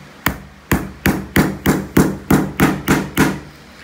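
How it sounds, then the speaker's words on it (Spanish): A hammer drives a nail into wood and leather with nine sharp, evenly spaced strikes, close and loud with no other sound. "lo que voy a hacer, lo voy a clavar"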